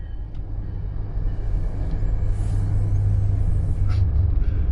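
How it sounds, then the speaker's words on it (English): A passing train in the video game No Man's Sky makes a steady, heavy low rumble that builds slightly over several seconds, with faint hissing higher up and no speech. "That's the train."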